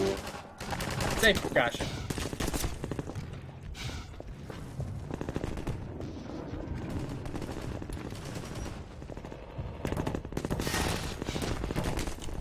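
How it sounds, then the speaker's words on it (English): Rapid gunfire in Half-Life 2, dense bursts of automatic shots crackling near and loud almost throughout, with someone talking briefly over them. "whoever is shooting me, I have a rocket launcher"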